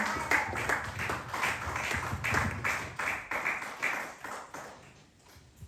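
Rhythmic hand clapping from a church congregation praising during a service, steady repeated claps that thin out and fade toward the end, with no talking over them.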